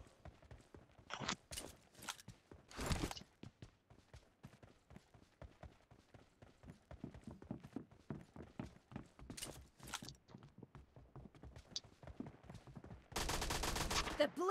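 Gunfire in a PUBG Mobile team match: rapid bursts of shots crackle throughout, with a dense sustained volley near the end, loud and busy against the game's background.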